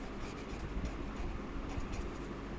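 A marker or chalk scrapes steadily across a classroom board during an accounting lesson, a continuous soft scratching stroke over room noise with no talk.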